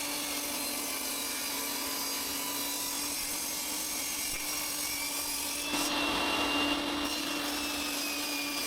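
A saw cuts through a small piece of purpleheart hardwood, giving a steady, fairly quiet whine that holds the same pitch throughout and grows slightly louder and brighter near the end.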